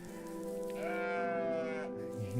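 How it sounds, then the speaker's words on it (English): The demon goat character in the game OneShot gives one drawn-out, wavering bleat lasting about a second, moderately loud over a soft background tone. "It's the demon goat."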